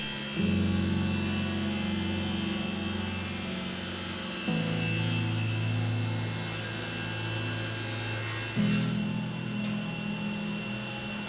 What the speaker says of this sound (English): The table saw makes quick work of ripping these pieces to width.